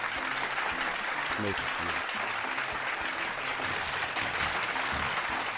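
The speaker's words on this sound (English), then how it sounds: "Round of applause." An audience applauds in steady, dense clapping that runs throughout, while a person talks over it.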